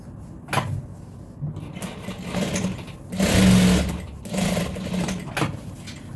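Sewing machine stitching the folded edge of a fabric apron pocket, running in several bursts of a steady, rapid motor hum with brief pauses between, close and fairly loud with no talking.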